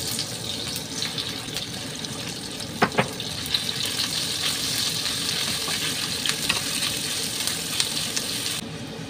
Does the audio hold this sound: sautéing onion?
yes